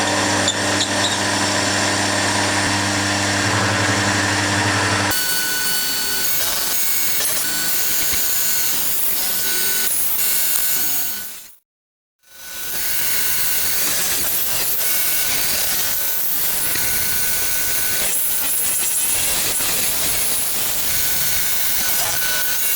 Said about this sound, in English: This is a very basic milling operation. I'll just be using the end mill to take out that excess material.